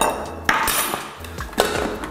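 A Thermomix lid is set in place during egg boiling, giving a couple of sharp hard clacks and clinks over a low mechanical background, close and fairly loud.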